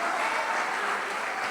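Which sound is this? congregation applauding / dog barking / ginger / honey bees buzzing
congregation applauding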